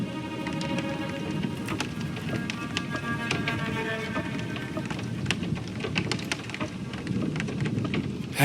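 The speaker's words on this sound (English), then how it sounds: "Oh, this damn thunder!" Steady heavy rain with low rumbling thunder plays as ambient weather in the Reign Of Nightfall video game, continuous and even throughout, with scattered sharp drop impacts.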